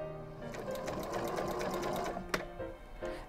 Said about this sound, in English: till the needle goes into the fabric. Sew about 4 stitches.